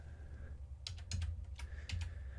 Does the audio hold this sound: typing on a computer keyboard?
yes